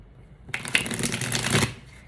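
A deck of tarot cards is shuffled by hand, with a close, dense riffling flutter that lasts just over a second after a quiet start.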